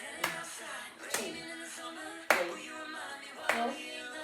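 Hand claps in a dance class, four sharp, fairly loud claps spaced about a second apart over a soft background of music.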